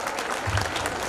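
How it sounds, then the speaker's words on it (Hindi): A quick burst of audience clapping at a college cultural program, lasting only about a second. "जोरदार तालियां"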